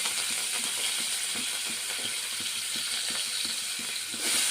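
Curry leaves and coriander sizzle in hot oil in a pan, cooked for a puri curry. A steady crackling hiss carries throughout, with rhythmic scraping taps of a spoon stirring near the mic.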